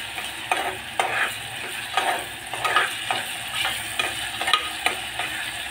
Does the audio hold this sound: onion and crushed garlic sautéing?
yes